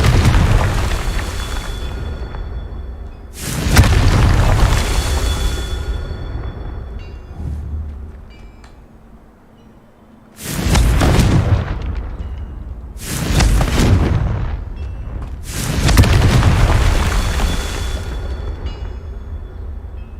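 Confringo spell explosions in the video game Hogwarts Legacy, several heavy booming blasts with long rumbling decays separated by quieter gaps, loud and close.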